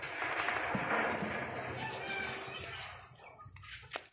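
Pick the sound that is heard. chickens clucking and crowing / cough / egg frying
chickens clucking and crowing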